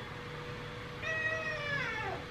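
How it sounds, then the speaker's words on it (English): A pet cat lets out one long, unusual drawn-out meow close by indoors during a living room makeover, rising and bending in pitch over a quiet room hum. "I've never heard him meow like that before."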